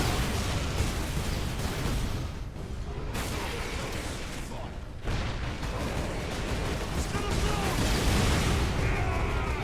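Explosions from the video game Warhammer 40K Space Marine. Loud, dense booms and bursts pile up continuously, with brief dips between volleys.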